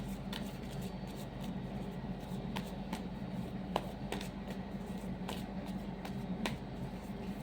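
Tarot cards being shuffled in a steady, quiet riffle of soft papery flicks and taps over a low background hum, with no one speaking.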